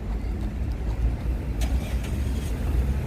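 A truck rolls along a city street in Washington, DC, giving a steady low engine rumble and road noise close by, with a faint hiss or squeal partway through and no talking.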